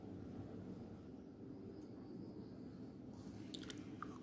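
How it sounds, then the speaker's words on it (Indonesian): A crispy no-oven cheese cookie is bitten, giving a light, brittle crunch near the end over a faint, steady background hiss; the whole thing is quiet and close. "Kalau digigit ini akan terasa renyah, tapi renyahnya itu yang ringan gitu ya teman-teman, nggak renyah yang keras."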